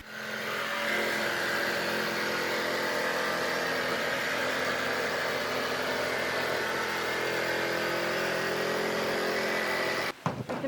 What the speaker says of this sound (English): We then drilled some pilot holes within the template for the jigsaw blade to go through and started cutting.